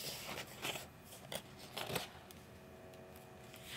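Cardboard and paper packaging of a wired Apple slim keyboard being opened and handled: a quiet, close series of rustles, scrapes and crinkles in several short bursts, with no talk.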